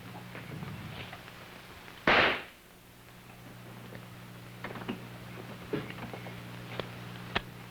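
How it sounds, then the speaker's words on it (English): A test shot is fired from a gun in a 1951 forensic science demonstration: one sharp, loud report stands out against a steady background hiss and faint clicks, with no speech. "Now, I'll load the weapon and I will fire the test shot."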